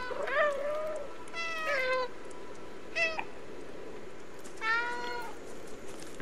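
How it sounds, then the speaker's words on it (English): A cat meows several times in the video game Stray, distinct drawn-out meows separated by pauses over a quiet, low ambient background, close and clear. "Ooh, I could meow."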